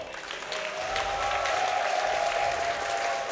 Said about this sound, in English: The crowd here still behind him.